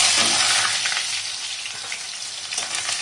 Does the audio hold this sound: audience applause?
no